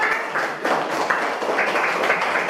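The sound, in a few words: class applauding students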